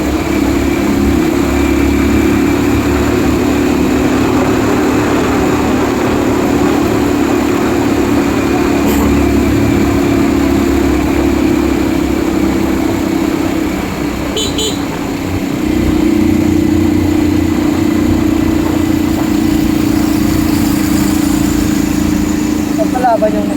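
A motorcycle engine runs loud and close in a continuous drone that dips briefly partway through, while people talk over it.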